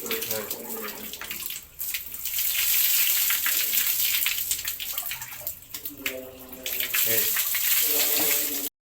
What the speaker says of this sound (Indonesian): Atau bisa dengan menggunakan kran seperti dalam video ini.